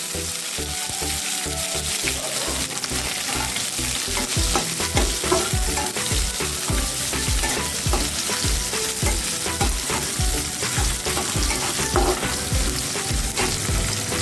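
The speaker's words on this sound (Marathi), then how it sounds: "मोहरी घालायची एक चमचाभर मोरछान म्हणजे एक चमचा जिरे घालायचे एक उभा कापून घेतलेला कांदा घालायचा" Sliced onion fries with mustard seeds and cumin in oil, a continuous close sizzle under a fast, regular rhythm of ladle strokes scraping the pan.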